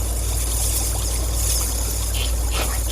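Water flows and trickles steadily into a large, deep pool beneath a waterfall, forming a continuous broadband rush with a low rumble underneath and no voices.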